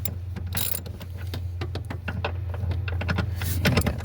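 Ratcheting socket wrench loosening a bolt while replacing the ignition switch on a 1988 Chevy Suburban, with rapid close clicks in short bursts over a steady low hum throughout.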